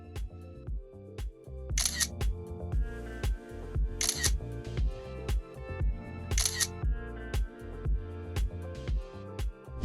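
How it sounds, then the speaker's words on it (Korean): iPhone 16 rear-camera shutter clicks repeat in quick, close, crisp bursts, framed by three brighter snaps over a steady rhythmic backdrop, with no talking. "이 카메라 컨트롤이 생각보다 이럴 때 진짜 괜찮은데 싶었던 게 바로 후면 카메라로 셀피를 촬영할 때입니다"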